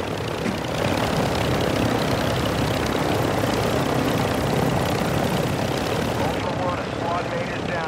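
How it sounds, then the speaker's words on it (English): Helicopter in the video game DMZ, a loud, dense, continuous rotor and engine roar that fills the whole stretch without letting up. "don't shoot the helicopter guys"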